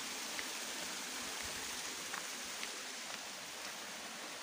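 Water flowing everywhere underfoot in the hills of Murree, a steady broadband rush with faint droplet-like ticks, continuous and moderately close with no talk over it.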